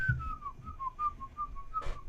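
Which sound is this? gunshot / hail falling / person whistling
person whistling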